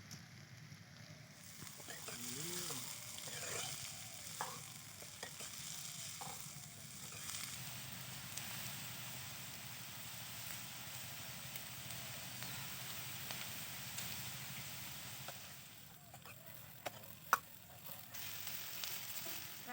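A pan of pumpkin peel with whole mung beans fries on lowered heat, giving a continuous soft sizzle with occasional stirring scrapes and a faint clink near the end.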